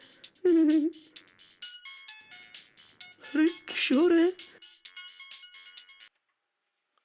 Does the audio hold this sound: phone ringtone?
yes